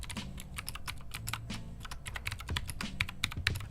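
Rapid, uneven clacking from a Lofree keyboard with clacky switches, close and crisp, keystrokes tumbling in quick irregular bursts with no voices.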